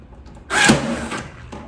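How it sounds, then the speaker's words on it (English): A staple gun fires a short brad nail into the wood of a 1947 buffet under repair, giving one sharp, close mechanical snap and thud followed by a faint trailing clatter. "This is what I got for a staple gun, but it also has very short brad nails."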